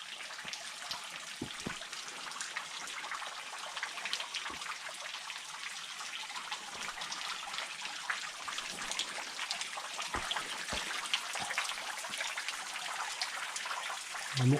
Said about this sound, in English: this here is known as Dripping Well